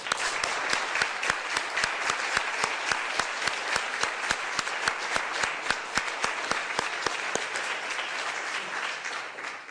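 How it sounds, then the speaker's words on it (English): Steady audience applause at a press conference on a major biodiversity assessment, even, moderately distant clapping from a room of listeners continuing throughout with no voices on top. "I'd like to ask for one more round of applause for everybody"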